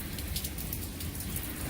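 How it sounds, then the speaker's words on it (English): Heavy rain from a thunderstorm drums steadily and loudly on a surface, a dense continuous hiss with scattered sharper drops and no distinct thunder claps or voices. "Storms are definitely going nuts."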